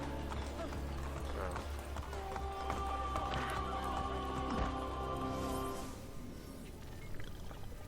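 Rhythmic horse hoofbeats in Assassin's Creed: Brotherhood clip-clop steadily at a quick pace, layered with music and game effects, with a speaking voice over the top.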